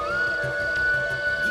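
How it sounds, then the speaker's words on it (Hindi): A flute plays at night in a forest, its steady, sustained tone holding one pitch over a low background hum, with no one speaking. "ये तो बांसुरी की आवाज है।"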